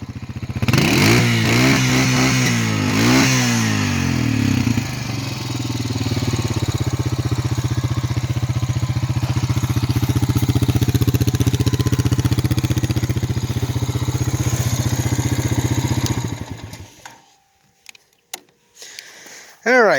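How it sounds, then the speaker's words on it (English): A Honda Rancher 350 four-wheeler engine revs up in a few quick bursts, then settles into a loud, steady rumbling idle for several seconds before shutting off, with people talking over it. "what kind of video would this be if we didn't rev the engine a little bit?"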